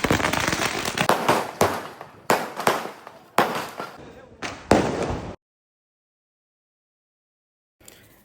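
Brinjal bomb firecrackers at a family Diwali celebration burst in a rapid string of loud, close, sharp bangs with crackling between them, then stop abruptly into silence before a faint distant pop.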